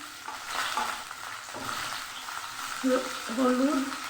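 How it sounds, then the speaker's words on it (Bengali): Cauliflower sizzles and crackles in hot oil with turmeric in a pan, with stirring sounds and faint voice-like tones rising near the end. "আমি ভালো করে একটু হালকা করে ভেজে নিচ্ছি"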